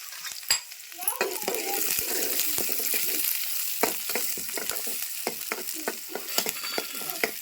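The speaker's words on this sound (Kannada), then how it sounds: "ಈಗ ಉಳ್ಳಾಗಡ್ಡಿ ಫ್ರೈ ಅಲ್ರಿ" Onions frying in a pan for coconut sambar, giving a crackling sizzle with irregular sharp clicks and scrapes of a spoon stirring, close and unaccompanied by speech.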